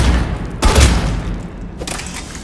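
Two heavy shotgun blasts from the Raider shotgun in Mass Effect 3, each a loud booming report with a short rumbling tail, the second softer than the first.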